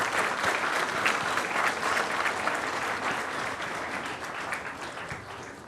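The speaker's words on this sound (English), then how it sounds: "Please let us all have a round of applause to thanking him." Dense applause from a seminar audience fills the room, steady and fairly loud, gradually tapering off toward the end.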